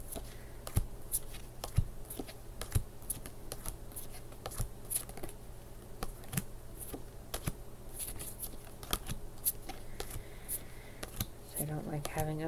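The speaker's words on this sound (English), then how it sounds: "And then I'm going to shuffle them really quick." Tarot cards shuffled quickly by hand on a table, a series of soft crisp riffles and taps in an irregular rhythm, close and quiet with a faint steady background hum.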